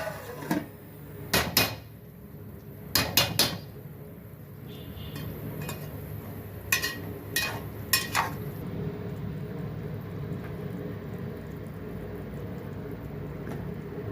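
A metal lid set onto a pot of chicken curry being cooked for lunch, heard as several sharp clanks and clinks in short clusters, then a quieter steady simmering hiss for the remainder.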